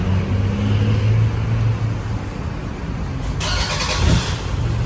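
A Toyota Commuter van engine, started by remote, turns over and settles into a steady idle, heard from nearby outdoors with a low rumble and some background hiss.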